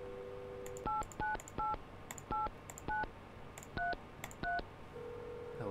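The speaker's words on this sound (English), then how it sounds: "Go ahead and give mother a call." An in-game phone in Mon Bazou dials a call: a steady tone, then nine or so crisp touch-tone beeps in an uneven rhythm, followed by a lower ringing tone that begins at the end.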